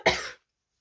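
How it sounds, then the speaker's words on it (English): A single short, sharp human cough, close and clear, from someone who has been breathing dust, followed by silence. "Oh, sorry for my cough."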